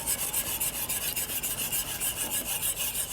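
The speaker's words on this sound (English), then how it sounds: "Now we're going to keep whisking until we get a nice thick texture and consistency." A whisk scrapes rhythmically through an egg mixture for lemon chicken soup, a quick, regular series of close, rasping strokes with no talk.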